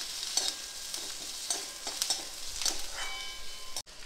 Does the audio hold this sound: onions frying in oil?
yes